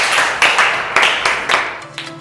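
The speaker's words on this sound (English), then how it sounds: "Clap for her." A class of pupils clapping for a classmate, a loud, close burst of rapid clapping that swells in a few waves and quickly tapers off.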